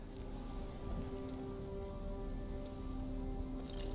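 Rain falls steadily in the Diablo 3 video game, a constant soft patter on surfaces with faint droplet ticks and a low rumble beneath, and no voices.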